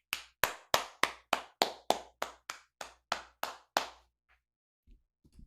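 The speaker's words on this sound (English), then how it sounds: "Round of applause." Crisp, evenly spaced claps, about a dozen in a steady beat, land close and loud at a political speech before stopping abruptly, followed by a few faint taps.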